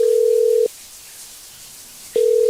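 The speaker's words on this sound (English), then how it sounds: "Hold on, I'm hanging up the phone." A telephone handset gives a loud steady dial tone after the call is hung up, sounding for about half a second, breaking into quiet, then resuming near the end.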